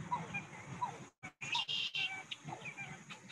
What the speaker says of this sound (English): you can hear some gallinules calling in the background.